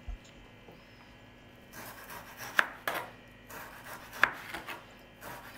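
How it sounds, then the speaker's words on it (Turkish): Meat is cut into thin slices on a board for homemade döner, with quiet knife strokes and a couple of sharper taps against the wood in a calm room. "Dilimleri elimden geldiğince incecik dilimleyip hazırladığım sosun içerisine"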